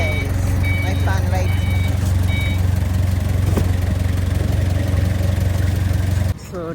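A truck idles steadily nearby while a shipment of large tiles and doors is loaded, with repeated reversing beeps over the low engine hum and people talking throughout.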